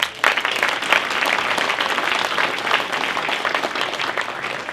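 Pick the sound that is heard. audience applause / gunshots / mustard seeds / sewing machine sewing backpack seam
audience applause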